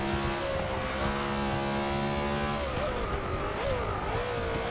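Racing car engine in Forza Motorsport 6, a BMW, roaring loud and steady with a harmonic whine that holds pitch, then shifts and wavers as the car changes gear, with no voices over it.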